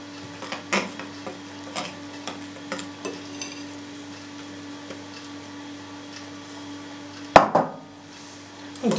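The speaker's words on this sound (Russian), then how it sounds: "пока перемешивается ложечкой, перемешиваем ложечкой" A spoon stirs bread dough made with wheat germ flour in a bowl, giving soft, scattered scrapes and taps, with a sharper clank near the end.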